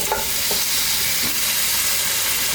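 A tomato paste mixture sizzles steadily in a hot pot as it is stirred, a dense continuous frying hiss with a few faint scraping touches and no talk.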